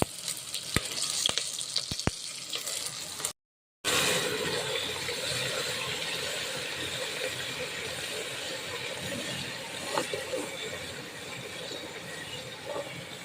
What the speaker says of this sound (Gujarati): હવે અદરકની પેસ્ટ નાખશું, મરચાં નાખશું,